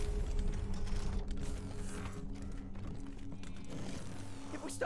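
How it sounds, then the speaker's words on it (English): Door mechanism in Wasteland 3 gameplay, a grinding, ratcheting mechanical clatter with creaks over a low steady hum, moderately loud and continuous. "let me get this door"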